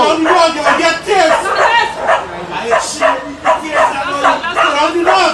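A police dog barks and yips over and over, close and loud, with whimpering between the barks, while someone shouts commands over it.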